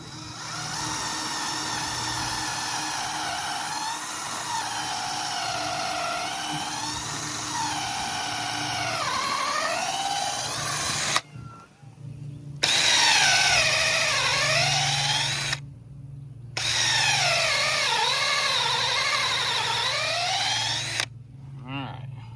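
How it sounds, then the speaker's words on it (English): A power drill whines in three long bursts, its pitch rising and falling under load as it drives a lag screw to install a gate, with short pauses between runs. "to install that gate, we got a lag, we got a drill"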